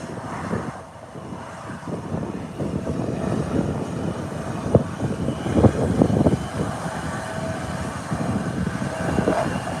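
An aircraft tug pushes a Bombardier airliner back from the gate at an airport, giving a steady, fairly loud low rumble with mechanical clatter and a few sharper knocks, and no voices.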